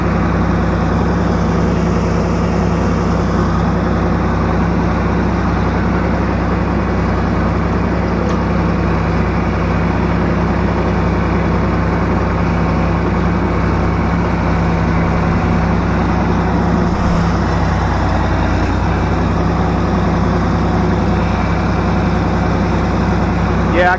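A tractor engine idles steadily and loudly throughout, a deep low rumble with constant mechanical drone and no pauses.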